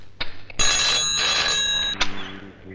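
A telephone rings with a loud, bright electronic bell, one sustained burst of ringing after a couple of short clicks, close and alone before it cuts off.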